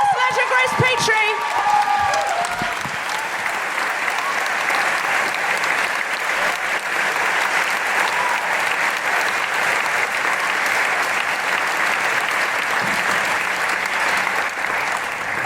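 A live comedy-show audience breaks into sustained, loud applause with cheers and whoops, as a brief sung or shouted voice rises over it at the start before the clapping carries on evenly.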